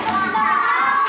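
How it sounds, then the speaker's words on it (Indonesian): Children in a primary school classroom clap their hands together in a dense, steady patter of many small claps, close and lively, with no one talking. "Tepuk tangan."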